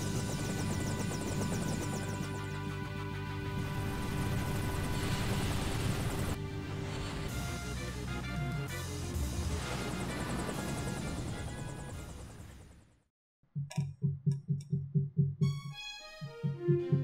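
An airship in Final Fantasy IV (DS) drones loudly and steadily with layered engine tones as it comes in to land at a castle, then cuts out abruptly into a short gap followed by a run of quick, pulsing game sounds.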